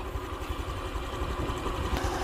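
A 2022 Honda Wave 110i motorcycle engine idles steadily nearby, a low, even, pulsing rumble with no voices.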